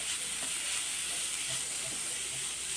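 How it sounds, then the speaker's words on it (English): Veg momo stuffing fries dry in a pan with no oil, giving a steady close sizzle with faint scraping stirs throughout. "Now just fry this for a minute again"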